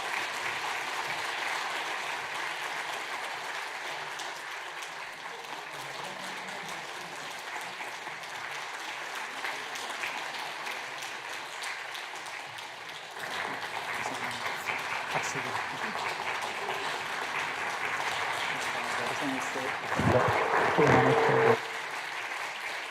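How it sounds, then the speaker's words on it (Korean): A church congregation applauds during a Sunday service, sustained clapping that swells louder partway through, with a speaker's voice heard over it at times. "축복하며 여러분 박수 쳐주시기를 부탁드립니다."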